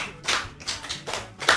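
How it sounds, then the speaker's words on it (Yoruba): An audience applauds during a Yoruba podcast recording, with a short run of a few clapping bursts, close and moderately loud, and no speech over it. "Ẹ pàtẹ́wọ́ fún un."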